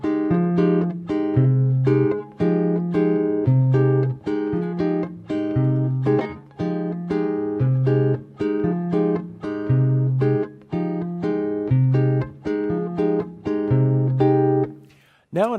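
A guitar plays a walking bass line and chords together, with a steady stepping bass under short strummed chord stabs in a repeating swing pattern, played alone and close.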